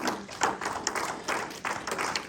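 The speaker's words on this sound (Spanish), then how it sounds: "Denle un aplauso al Señor." A church congregation clapping for the Lord during a Spanish-language service, uneven scattered hand claps and taps of moderate loudness that rise and fall over a couple of seconds.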